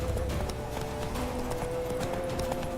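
A horse gallops in The Witcher 3: Wild Hunt, its hooves beating in a quick, regular clip-clop over a steady droning background, moderately loud and unbroken from start to finish.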